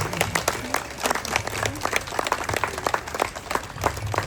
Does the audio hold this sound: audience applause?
yes